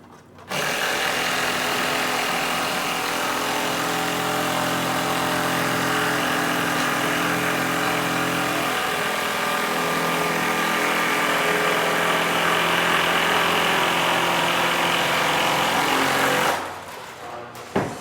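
An impact wrench drives a 10-inch timber screw through a purlin into a 2x6 roof framing member, a loud sustained buzzing rattle lasting about fifteen seconds before cutting off abruptly.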